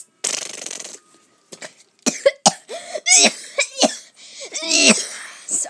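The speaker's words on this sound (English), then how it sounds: "Sorry, I coughed." A person in a space helmet coughing in Alien, a short burst followed by a string of harsh, close coughs and wheezy breaths in irregular rhythm.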